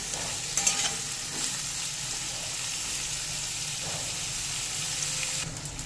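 Long-cut potatoes and eggplant, salted, fry in a pan for a mourala fish curry, giving a steady, close sizzle with a few light stirring scrapes near the start.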